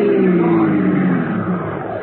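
A car engine in a 1948 radio drama roars steadily and loud, its pitch sliding slightly as it revs, with no talking over it.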